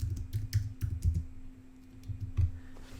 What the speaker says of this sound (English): Here you can type in your text